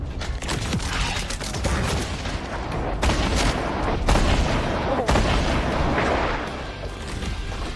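Grenade explosion amid loud continuous booms and gunfire in the Fortnite battle royale game, with several heavy thumps standing out of a dense, busy battle mix.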